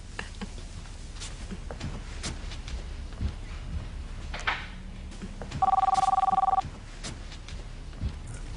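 Indoor telephone bell ringing in a TV soap opera scene, a single loud burst of electronic trilling lasting about a second amid quiet room noise, with no talking.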